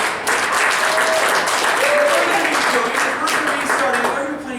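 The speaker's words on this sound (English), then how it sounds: "So round of applause for Clay and David up here" An audience at a live improv comedy show applauds steadily, a dense, sustained wash of clapping that stays loud throughout with faint voices mixed in.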